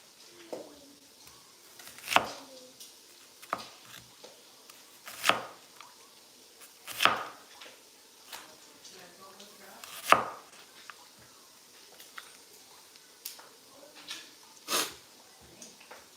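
Knife chopping onions on a cutting board in a home kitchen, irregular sharp close taps spaced a second or two apart, with soft background movement and no speech.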